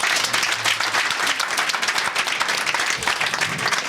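Audience at an official visit to a public complaints commission office clapping, a dense, even burst of applause from a sizeable group, loud and continuous without speech.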